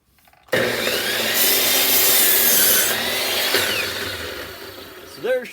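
A wooden board for a dove house is cut at a 45-degree angle, the saw starting abruptly into a loud, continuous, close grinding buzz that eases off near the end.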